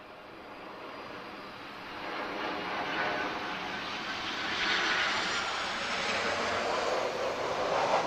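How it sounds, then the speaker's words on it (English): An Airbus A330neo heavy jet arriving at Lisbon airport, a broad steady engine roar that swells gradually and stays loud and close throughout, with no one talking. "we're also getting another Neo, A330 Neo arrival shortly as well"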